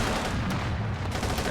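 A British .50 calibre machine gun firing in a realism-focused multiplayer shooter match: dense, continuous bursts of gunfire with overlapping shots, loud and sustained throughout.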